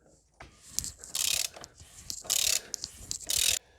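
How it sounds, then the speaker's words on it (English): Ratchet wrench tightening the oil drain bolt on a Mercedes A180 W176, rapid clicking bursts interspersed with short sharp metallic spins, close and fairly quiet, no talking. "Once all the oil is out, tighten back the bolt."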